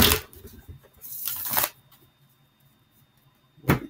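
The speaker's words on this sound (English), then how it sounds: "Look at these cards shuffled." Playing cards riffle in two quick bursts, a pause of near silence, then a brief third shuffle, crisp and close.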